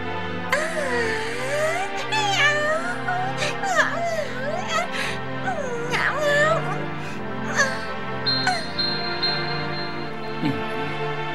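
A cartoon kitten meows in a string of rising and falling cries, close and clear over a steady musical background.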